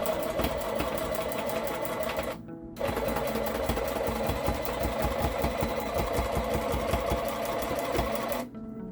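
A rug tufting machine rattles loudly in a rapid, steady mechanical chatter. It stops briefly, then starts again and runs until near the end.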